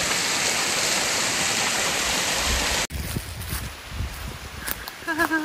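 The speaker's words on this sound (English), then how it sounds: "in climbing up this unknown waterfall in the middle of nowhere" Rushing water from a remote mountain waterfall near the Carbon River, loud and steady, filling everything, then cutting to a quieter scene with trickling water and brief voices.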